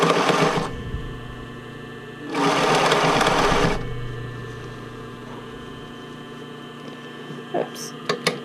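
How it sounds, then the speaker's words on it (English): A home sewing machine runs zigzag stitching to attach elastic onto a seam allowance, two close whirring bursts of rapid stitching separated by a quieter pause, with a few light clicks near the end. "you should be sewing with a zigzag"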